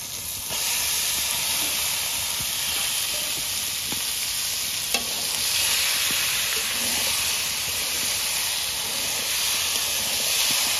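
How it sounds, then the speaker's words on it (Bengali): Meat sizzling in a pan with fried spices for a kosha mangsho curry, a loud continuous hissing fry heard up close, with occasional faint stirring clicks and no speech. "মশলা কষানো হয়ে গেছে। এবারে মাংস দিয়ে দেবো।"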